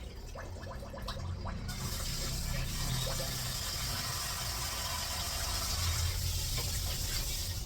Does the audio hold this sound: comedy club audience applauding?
no